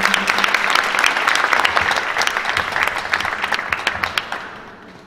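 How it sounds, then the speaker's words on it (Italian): An audience at a literary award ceremony in San Giovanni in Fiore applauds warmly with sustained, thick clapping that thins and fades away over the last second. "gli facciamo un applauso"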